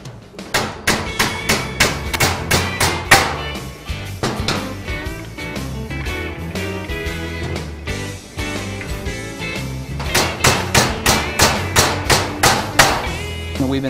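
Bushings are hammered onto a QuadBoss pile driver bracket, making repeated sharp metallic strikes in quick steady bursts, loud and close, with a quieter stretch of rattling work in between before the rapid blows resume.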